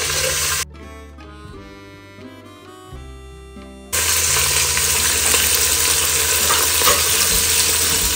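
Three chopped onions tip into a pan for a Sri Lankan eggplant milk curry, then sizzle loudly and steadily as they are stirred, after a quieter stretch of scraping and clatter.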